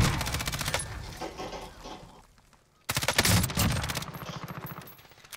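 Rapid automatic gunfire rattles in dense bursts in the Warzone video game, loud and close, pausing briefly before another long volley.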